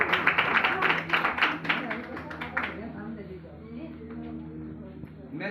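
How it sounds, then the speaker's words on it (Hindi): Audience at a political meeting in Agra breaks into loud clapping and applause, dense and sustained for a few seconds before tapering off under a background hum. "जोरदार तालियां हो जाएं"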